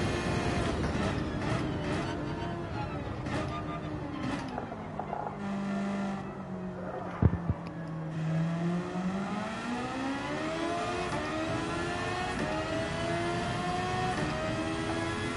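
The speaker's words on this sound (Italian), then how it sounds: "è turbo, sì, si sente il turbetto" A turbocharged car in Gran Turismo 7 revs and accelerates, its engine note rising and falling through gear changes, with a whistling turbo whine, a dip in pitch mid-run and a brief sharp clunk, then climbing steadily again.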